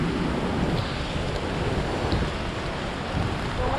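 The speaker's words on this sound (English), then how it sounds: "Well, it is a tropical storm." Tropical storm in Akumal, Mexico, with rain, gusting wind and surf blending into a loud, continuous broadband roar with no clear breaks.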